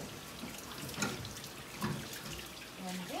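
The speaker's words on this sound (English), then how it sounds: "You need just the hottest tap water your water heater will give you." The hottest tap water from a home water heater runs steadily from a faucet, a soft continuous hiss and splash with faint knocks, heard close and fairly quiet.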